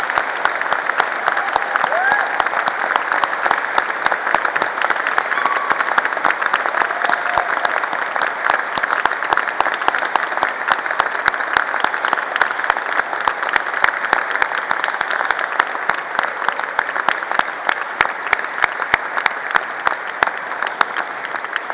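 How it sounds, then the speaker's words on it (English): A large audience at a university degree ceremony applauds the graduates, a long, loud, sustained round of dense clapping with steady crowd noise beneath it and no break. "let's start today's ceremony by giving all of our amazing graduates a huge round of applause"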